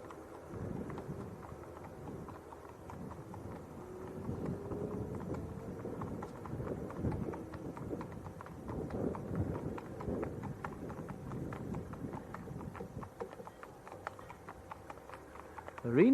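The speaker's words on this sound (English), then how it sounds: "Probably hear some clippity clap. There's a couple of horses coming towards us." A couple of horses approach along a road near Leeds Bradford Airport, their hooves clip-clopping in a steady rhythm that grows slightly louder. Light wind noise runs underneath.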